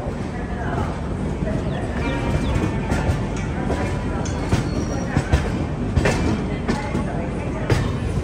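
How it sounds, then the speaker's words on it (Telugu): The Jammu to Tirupati Humsafar Express pulls out of Jhansi station, its wheels clacking in an uneven rhythm with sharp knocks and a rolling rumble, while a person talks over it. "మన ట్రైన్ ఝాన్సీ నుంచి బయటికి వెళ్ళిపోతుంది"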